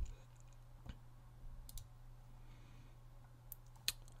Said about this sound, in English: I'm going to click create.